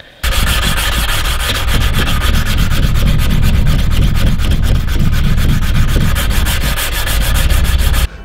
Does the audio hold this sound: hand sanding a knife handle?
yes